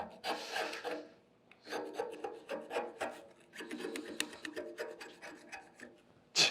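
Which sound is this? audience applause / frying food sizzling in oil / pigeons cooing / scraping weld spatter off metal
scraping weld spatter off metal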